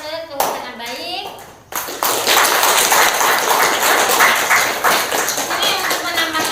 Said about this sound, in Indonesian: tepuk tangan dulu dengan baik.